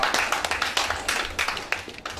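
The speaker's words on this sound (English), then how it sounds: "Let's clap for her, please" An audience at a property business expo claps for a woman, a loose, uneven patter of separate hand claps with audible individual strikes, moderately loud and close.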